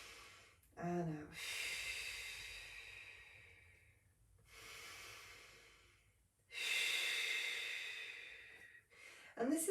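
Slow Pilates lateral breathing, in through the nose and out through the mouth, with long airy breaths heard close up in alternating cycles and a brief voice in between.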